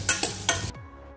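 A spoon stirs fresh date kheer in a pot with a few quick scraping strokes, close and brief, ending abruptly.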